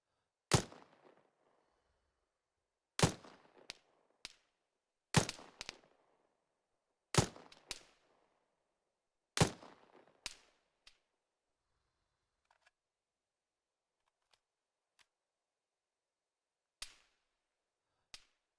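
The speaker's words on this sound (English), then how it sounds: "The range is hot. You are clear to fire." Sharp, isolated rifle shots ring out on a firing range in the video game ArmA 3, with several loud cracks a couple of seconds apart followed by fainter, sparser shots as the firing tapers off.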